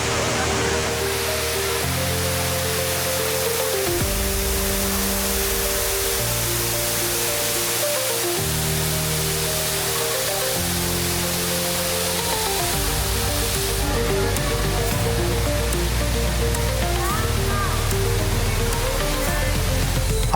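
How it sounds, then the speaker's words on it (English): A 35-metre indoor waterfall in Singapore roars as a steady, loud broadband wash, with shifting low musical tones from the surrounding space layered underneath throughout. "This 35-meter indoor waterfall is one of the tallest in the world."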